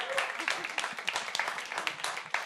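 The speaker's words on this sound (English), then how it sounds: "Clap. Let's clap for that." A crowd claps during a Pride speech, with brisk, scattered hand claps coming in a steady patter that stays fairly faint and distant.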